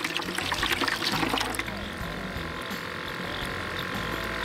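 Water glugs and splashes from a bottle into a container of orange-gold bait dye, a loud gurgling pour for the first moments that settles into a steadier, softer trickle.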